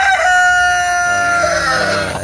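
A heritage chicken clucks and crows loudly and close by, a single drawn-out call filling the short moment with no talk.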